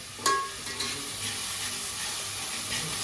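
Potato vada pav filling being stir-fried in a pan, a soft continuous sizzle with a sharp spoon knock near the start, then gentle scraping and stirring, with no talking.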